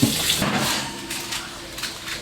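Water runs steadily from a tap into a bathtub being filled for a young girl's bath, a continuous close rushing splash with no voices.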